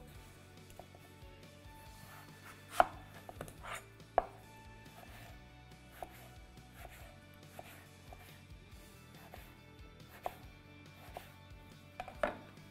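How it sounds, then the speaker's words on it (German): Knife cutting mango on a cutting board, a scattering of sharp, irregular taps and clicks over a quiet background with soft music. "Weiter schneide ich noch Früchte."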